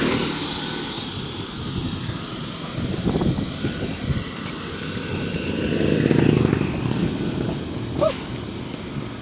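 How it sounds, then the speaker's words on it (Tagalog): Motorcycles pass along a road, engines rising from a distant hum to a louder buzz and fading again, heard over continuous wind and outdoor background noise. "Tabi lang, may mga motor."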